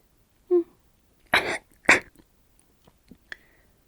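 Several sharp, close coughs come in a short cluster, with small breaths and mouth noises afterwards in an otherwise quiet room.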